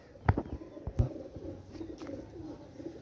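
Pigeon cooing at a racing pigeon showing, soft low coos under sharp handling thumps and clicks, close by with faint background noise.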